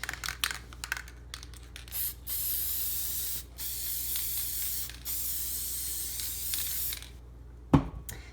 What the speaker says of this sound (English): So I'm going to go ahead and just spray these lightly.